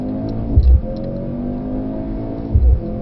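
A Mercedes-AMG C63 S E accelerates at full power on a track, a loud close engine roar rising steadily with two deep thumps as it pulls.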